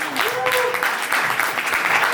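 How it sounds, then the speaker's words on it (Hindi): Applause from a gathered audience at a retirement farewell celebration in Delhi, steady clapping from many hands with a faint voice briefly audible beneath, continuous at moderate loudness. "जोरदार तालियां।"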